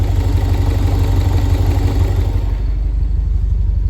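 A car engine, fitted with an idle air control valve workaround, idles at about 700 RPM: a close, loud, even low throb with a light clatter and no voices.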